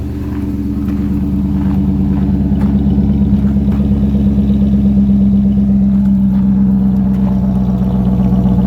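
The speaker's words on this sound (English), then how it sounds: "Motor sounds nice, guys." A wrecked Chrysler 300C with its HEMI V8 runs loud and close, building from a steady rumbling idle into a sustained, even engine drone with no talking.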